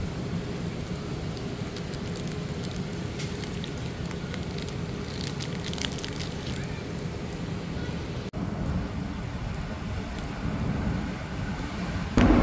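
Steady rain falls during a train trip in Bangladesh, a continuous, even hiss of drops on surfaces at moderate loudness, unchanging across the stretch with no other sounds standing out.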